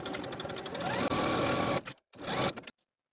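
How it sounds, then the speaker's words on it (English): A sewing machine stitches the side seams of a top from notch to hem with a 5/8 inch seam allowance, running loud and close in a steady buzz, then stopping, giving a short final burst and falling silent. "Sew both of these side seams from the notch to the bottom of the garment with a 5/8 inch seam allowance."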